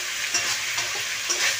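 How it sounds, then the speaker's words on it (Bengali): Meat sizzles steadily in a hot pan as it is stir-fried and braised dry, with a few soft scraping stirs cutting through the close, continuous frying hiss. "আমার বউ আবার এখন একটু মাংসটাকে কষিয়ে নিচ্ছে"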